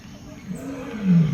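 A lion in a big cat enclosure lets out a deep, low roar that swells louder toward the end, heard up close over faint background voices.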